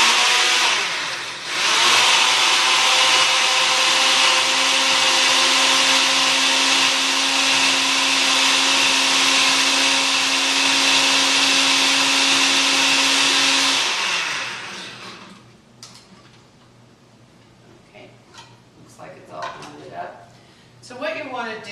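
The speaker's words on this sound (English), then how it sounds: "So we're going to blend that up because we're making a marinade for this." A countertop blender whirs loudly and steadily for about twelve seconds as it purees a mustard marinade meant for a grilled leg of lamb, then cuts off, leaving quieter kitchen noise and a few clatters.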